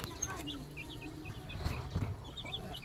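Young free-range village chickens raised at home clucking and chirping softly in a coop, with scattered short peeps over a low background, while a person talks nearby.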